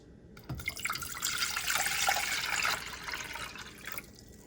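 Vinegar and water, one part to four, poured into a dye pot, a steady splashing pour lasting a few seconds that swells and then tapers off before stopping.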